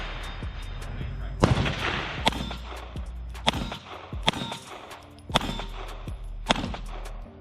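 A Shadow Systems DR920 Elite pistol is fired with a Glock magazine at a range. Six or seven sharp, loud reports come at irregular intervals of about a second, each with a metallic ring, over steady background noise.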